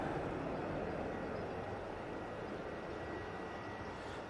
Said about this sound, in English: Beautiful Aer Lingus A330.